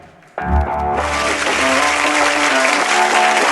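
An audience bursts into loud, sustained applause as an award-winning singer is introduced onto the stage at a music awards ceremony, with dense clapping continuing steadily after a brief opening musical sting.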